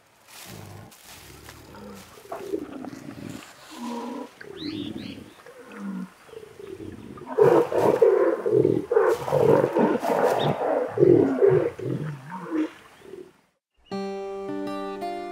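Mating wild cats in the Pantanal wetland of Brazil roar and snarl at each other in loud, rough bursts, growing more intense and overlapping midway, close and alone before a brief musical tail.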